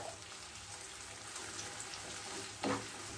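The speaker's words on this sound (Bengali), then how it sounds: "এখন আমি 2টো ডিম ভালো করে ফেটিয়ে নিয়েছিলাম, এগুলো দিয়ে দিব। ডিমটাকে একদম ঝোড়া ঝোড়া করে ভেজে তুলব।" Beaten eggs fry in hot oil in a pan with a steady, fairly quiet sizzle, and a brief louder clatter near the end.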